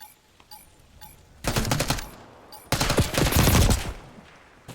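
Two bursts of rapid submachine gun fire in an esports match of a first-person shooter, the second burst longer and denser than the first. Faint clicks come between the bursts.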